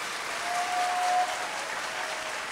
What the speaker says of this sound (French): Et maintenant, nous pouvons applaudir pour ça.